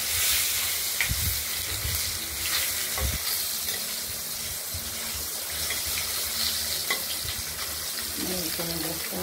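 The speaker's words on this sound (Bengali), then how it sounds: "ভেজে নিচ্ছি প্রথমেই।" Fish rubbed with salt and turmeric fry in a pan with a steady loud sizzle, broken by occasional clinks and stirring, close up, while someone talks briefly.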